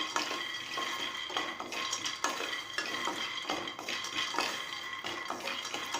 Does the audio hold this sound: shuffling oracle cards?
no